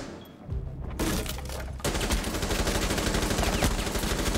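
Rapid gunfire in a tactical shooter match, with a burst of shots followed by dense, continuous firing and loud impacts that carry on without a break and with no talking.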